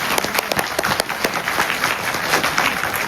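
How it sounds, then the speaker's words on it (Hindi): Seminar audience gives a short burst of applause, uneven individual claps close by mixed with a looser crowd of clappers for about three seconds. "अगर नहीं है तो एक बार जोरदार तालियां हो जाए।"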